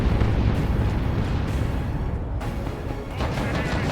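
An artillery barrage in the Dawn of War 2 video game roars as dense, continuous explosions, loud and rumbling, with overlapping blasts and no pause between them.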